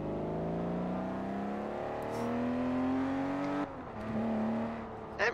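Car engine in Forza Horizon 4, a mid-1980s model, revving steadily with rising harmonic whine that holds, then drops briefly and picks up again, loud and continuous with no talk over it.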